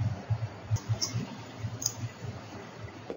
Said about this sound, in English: Stop clicking, Sorrow.